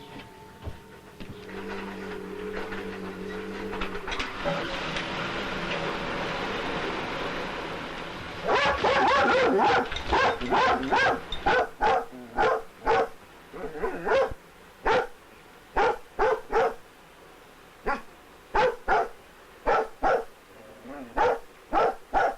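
A dog barks at a washing machine as it clicks over to its spin cycle. A steady machine drone comes first, then loud, close barks in rapid repeated bursts.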